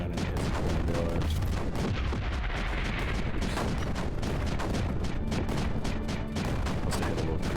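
Cannons fire in the strategy video game Creeper World 4, a dense, continuous barrage of rapid booming shots layered on a loud, rumbling background.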